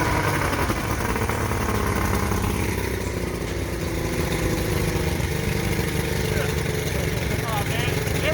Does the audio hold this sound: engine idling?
yes